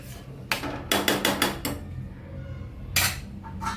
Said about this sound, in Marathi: झाकण ठेवून घेते.